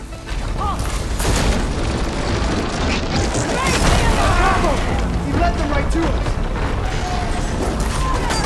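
Target detonated by the right ammo in Horizon Forbidden West, a loud booming blast with rumbling debris and mechanical clatter inside dense game action, with a voice talking over part of it.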